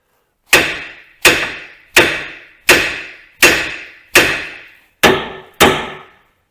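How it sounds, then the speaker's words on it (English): Eight sharp, heavy metallic hammer blows strike a Land Rover LR2 front wheel bearing hub one after another at a steady pace, each ringing briefly before the next. Loud and close, no talking. "we'll give this one a good solid crack with a hammer"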